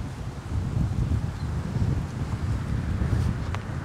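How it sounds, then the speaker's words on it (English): Steady outdoor wind gusts across a disc golf course, a soft broad rushing with slight rises and falls, close to the microphone and without talk. "Wind is coming this way."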